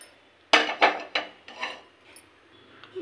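A metal wok (bandi) is set down on a gas stove, giving a sharp close clank followed by a few lighter knocks and scrapes as it settles, with no talk.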